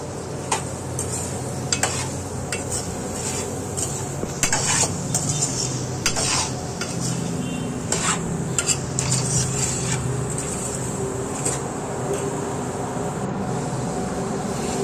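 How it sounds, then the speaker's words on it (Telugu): A spoon scrapes and clatters around a pan of vegetables frying with chili powder and salt for a Telugu pappucharu, steady stirring over a soft sizzle with no talking. "ఇవన్నీ కొంచెం ఫ్రై అయిన తర్వాత ఇందులో వీటికి సరిపడా కారము, ఉప్పు వేసి కలుపుకోవాలి."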